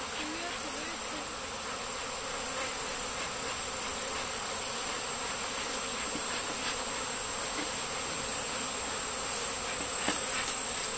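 Honeybees buzzing around an opened top bar hive during an inspection, a dense continuous drone of many wings close to the microphone, steady and unbroken throughout.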